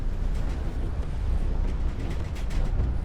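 A spaceship engine in the video game Star Citizen winds down as a steady, dense low rumble with faint airy hiss on top, holding an even loudness throughout with no speech.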